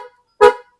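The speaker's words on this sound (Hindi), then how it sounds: "तो ये पहले आपको हॉर्न का साउंड देगा," One short, loud honk from the horn of a 2026 Mahindra Thar Roxx AX7L 4WD diesel as the key fob locks the vehicle, a single sharp toot following a faint brief beep.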